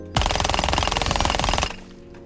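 Automatic rifle fire in the video game Rainbow Six Siege, a loud sustained burst of rapid, evenly spaced shots lasting about a second and a half, then cutting off abruptly into quiet room tone.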